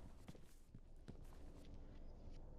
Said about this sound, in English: I thought I could hear footsteps.